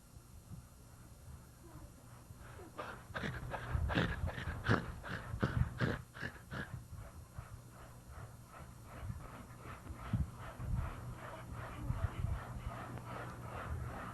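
A man rhythmically imitates a dog's panting, a rapid series of sharp, breathy huffs close to the mic that quicken and grow louder, then fade into softer intermittent breaths.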